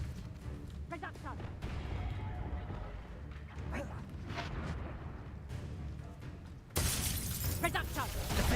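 Reducto spell blasts and shattering debris in Hogwarts Legacy combat, a dense run of crashing, crumbling impacts amid game sound and spoken lines, then a sudden louder burst near the end.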